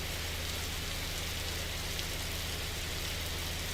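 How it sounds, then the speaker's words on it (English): Steady rain patters on an outdoor camera at a race event, a dense continuous hiss of drops striking close to the lens, even and unbroken throughout, over a low background hum. "there's quite a lot of rain attacking the camera"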